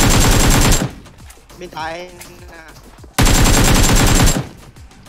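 Bursts of rapid automatic gunfire in the PUBG Mobile video game, loud and close: one long burst, a pause with someone talking, then a second sustained burst.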